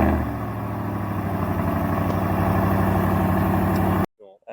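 A 2023 RAM Rebel GT pickup with a 5.7-liter Hemi V8 and upgraded exhaust idles close by, a loud, steady low rumble with a pulsing burble that cuts off abruptly near the end.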